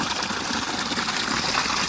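Water gushes steadily from a farm pump outlet, a dense, continuous rushing stream heard close and loud without pause.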